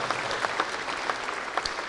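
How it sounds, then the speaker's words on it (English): A standing audience gives a big round of applause for the Seminole Nation Honor Guard and the Cozad Singers at a Native American hall of fame ceremony, a dense, even wash of clapping throughout. "how about another big old round of applause?"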